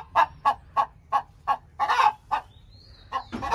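Polish hens cluck in a coop pen, a run of evenly spaced, close, clear clucks followed by a louder burst of clucking at the end.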